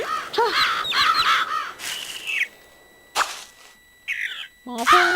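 Game crows caw in harsh, repeated bursts in Billy Hatcher and the Giant Egg, loud and close, with short gaps of quiet between the calls and a few thin tonal game sounds.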